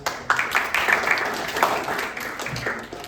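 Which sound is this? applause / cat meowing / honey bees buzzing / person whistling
applause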